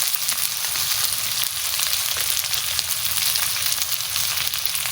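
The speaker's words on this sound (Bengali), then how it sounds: "এবারে আলুটা দিয়ে দিচ্ছি একসাথে কষাই নেব ঝালের গুঁড়ো দিয়ে দেবো" Potatoes frying in a pan with chili powder, a steady close hiss and crackle of sizzling oil holding evenly throughout with no talk.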